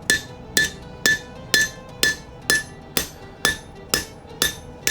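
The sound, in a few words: hammer tapping a dirk blade on an anvil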